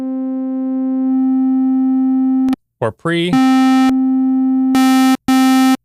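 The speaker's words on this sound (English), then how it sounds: "you could add the filter on before it hits the distortion or after it hits the distortion" Loud, steady synthesizer tone passed through a distortion and filter effect, the held note dropping out and returning brighter and buzzier, with a short burst of speech in the middle.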